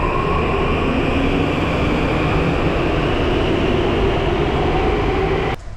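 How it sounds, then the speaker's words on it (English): Old Soviet-style subway train in Prague, a loud, sustained roar and rumble of the metro running with a faint steady whine, continuous and close before cutting off abruptly at the end. "they use kind of old style, kind of Soviet style trains here"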